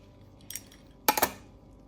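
A knife cutting a freshly baked homemade pizza into squares: two brief metallic clinks against the pan, a light tap followed by a louder double clack, close and quiet overall.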